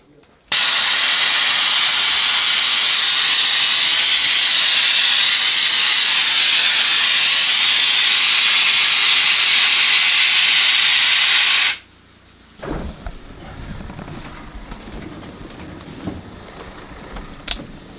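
Aerosol insecticide spray blasts Asian hornets in one loud, continuous, steady hiss lasting about eleven seconds, then cuts off abruptly, leaving quieter rustling and faint background sounds.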